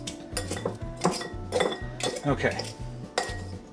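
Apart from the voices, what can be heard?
chopping ground beef finer with a utensil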